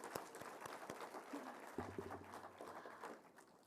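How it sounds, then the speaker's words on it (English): An audience applauds at an international conference on democracy and election management. A few separate claps come first, then a faint, thin patter of clapping follows, heard from a distance in a large hall. "a round of applause for all the people who helped us get here"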